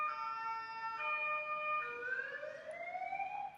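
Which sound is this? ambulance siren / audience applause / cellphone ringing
ambulance siren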